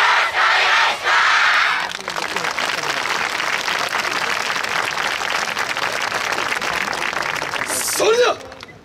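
A crowd at the 2019 Inuyama Odori festival dance final cheers and shouts, then settles into sustained rhythmic hand clapping for a kabuki-themed team, with an announcer's voice heard at the start.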